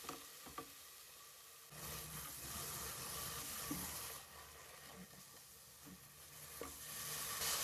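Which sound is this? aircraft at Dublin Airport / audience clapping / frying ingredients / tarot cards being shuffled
frying ingredients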